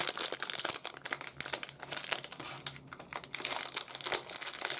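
A plastic packaging bag for a Xiaomi Yi camera battery and two-battery charger crinkles and rustles continuously as it is handled and opened, quiet and close, with no talking.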